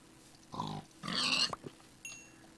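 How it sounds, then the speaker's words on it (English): Minecraft pigs give a few short, quiet oinks and grunts in quick succession within a video game. "I'm going to go ahead and kill these pigs for food."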